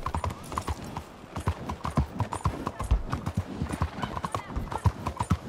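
Horse hooves clip-clop steadily in Red Dead Redemption 2, a brisk rhythmic patter of hoofbeats at close range over game ambience, with a voice and a laugh briefly on top.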